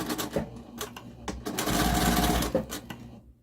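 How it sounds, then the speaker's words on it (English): A sewing machine back stitches a lining seam on a zippered project. Close, rapid needle bursts start and stop, followed by a longer continuous run before it halts, with faint voice in the background. "Okay, so I'm gonna back stitch"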